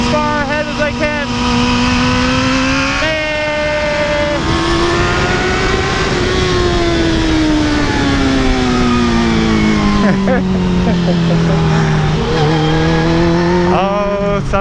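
Motorcycle engine on a race track holding steady maintenance throttle through a long corner while trail braking and knee dragging, a loud continuous drone whose pitch sags and rises with the lean, with wind noise and speech throughout.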